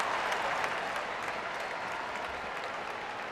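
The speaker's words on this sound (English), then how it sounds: "A nice round of applause for Jose Castillo as he steps in." A baseball crowd applauds a batter stepping up to the plate, steady distant clapping from the stands that holds evenly for a few seconds.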